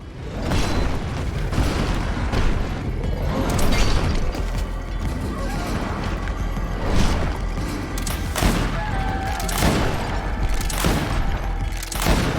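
Gunfire and combat in the video game Greedfall: repeated booming shots and mechanical clanks in a dense, continuous battle mix with loud impacts throughout.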